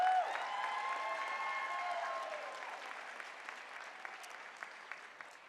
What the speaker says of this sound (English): Once again, please give all of our finalists a round of applause.